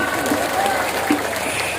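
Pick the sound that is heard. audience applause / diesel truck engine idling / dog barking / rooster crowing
audience applause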